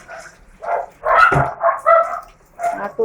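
Two pet dogs bark and yip excitedly before being fed in the morning, with several close, loud barks arriving in uneven bursts and short whimpering sounds between them.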